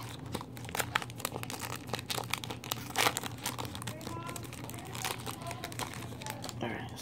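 Long Pokémon card packs are torn and opened, giving continuous close crinkling and crackling of foil wrappers with sharp tearing bursts. A person talks over it throughout.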